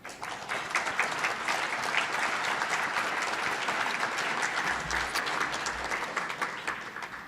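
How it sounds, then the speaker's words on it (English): An audience in a City Club meeting room gives sustained, steady applause, a dense wash of many hands clapping at even loudness with no speech over it. "Please join me in a warm round of applause for all of them."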